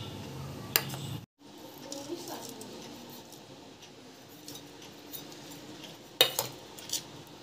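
A spoon stirs sabudana mixed with crushed peanuts in a pan, with soft scrapes and occasional clinks of metal against the pan under low background noise.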